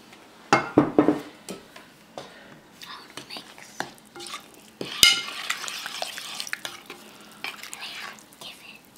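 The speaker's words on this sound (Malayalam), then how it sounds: "ഇത് നമുക്ക് നമ്മുടെ അരിപ്പൊടി ഇട്ടിട്ട് നന്നായി ഇത് മിക്സ് ചെയ്ത് കൊടുക്കുക." Rice flour and water mixed by hand in a bowl for Malabar kinnathappam batter: irregular stirring scrapes and light clinks of utensil on the bowl over about nine seconds, close and moderately loud.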